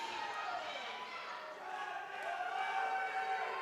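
A wrestling crowd at a Pittsburgh title match roars steadily with deep voices, a dense, continuous wall of cheering and shouting that swells slightly toward the end.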